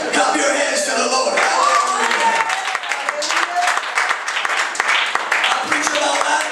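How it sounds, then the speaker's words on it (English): A church congregation claps hands together in dense, steady applause, with voices calling out beneath the rapid, overlapping claps throughout. "Clap your hands to the Lord."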